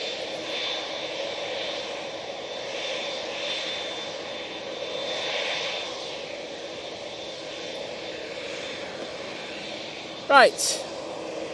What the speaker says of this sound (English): TUI Dreamliner coming on in front of us.